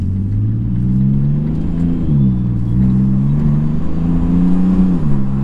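A VW Corrado R32 Bi-Turbo with DSG gearbox pulls away in first gear, a loud close low engine rumble that swells and wavers slightly as it moves off, steady throughout with no talk.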